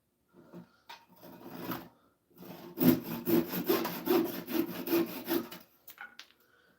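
A handsaw cuts wood at close range. A few tentative strokes come first, then a pause, then a steady run of about ten rhythmic back-and-forth strokes that fades at the end.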